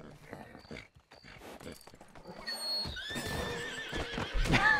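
Horse neighing in the Western game RedM, a loud whinny rising near the end over clip-clop hooves and scattered game noises.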